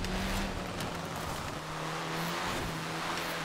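A Pagani Zonda's engine drones steadily during an expert-difficulty Forza Horizon 4 race, a constant low hum with a slight pitch dip midway, loud and close with no talking.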